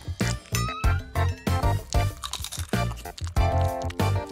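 Crisp crunching and chewing of a KitKat chocolate wafer bar, a rapid run of loud, close bites and crackles repeating through the whole stretch with no talking.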